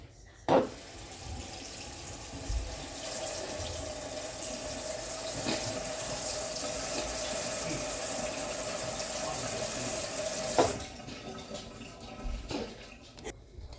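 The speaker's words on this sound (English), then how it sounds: "So I just dropped this, so I need to wash it." A sink tap runs steadily for about ten seconds as a dropped item is rinsed under it, a broad even rush of water framed by a few clunks at the start and end.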